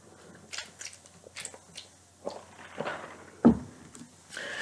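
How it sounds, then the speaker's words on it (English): Crunchy bites and chewing of Long John Silver's fried food close to the microphone, with irregular crisp bursts and one loud sharp crunch near the end, no talking. "so that way you'll be able to hear more of the crunching and stuff."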